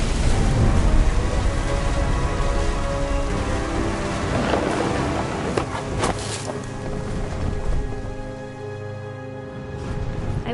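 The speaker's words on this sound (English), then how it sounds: "The thunder sounded much too close and full of angry power." Thunderstorm in the video game What Remains of Edith Finch: heavy rain drumming steadily with deep rolling thunder rumbling close and loud, the rumble fading toward the end while the rain continues.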